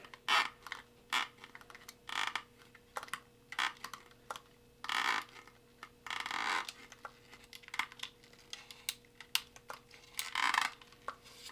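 A razor blade cutting through the spring inside an ink nozzle, with short scraping bursts and small clicks coming irregularly in close, quiet surroundings.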